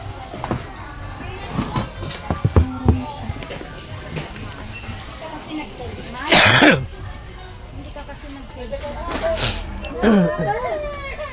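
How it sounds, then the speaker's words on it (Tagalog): A coughing fit at a New Year gathering, a burst of harsh coughs mid-clip followed by another cough later, amid scattered nearby talking and children's voices. "Natake ako ng ubo."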